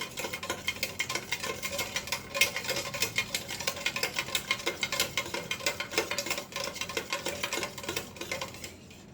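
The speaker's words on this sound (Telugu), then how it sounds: "షుగర్ కరిగిందా లేదా అని కాసేపటి వరకు చెక్ చేసుకుంటూ ఉండండి మిక్స్ చేసి" A spoon stirring lemon juice in a glass to dissolve sugar makes rapid, steady clinking and scraping close up, continuing without talk until it stops near the end.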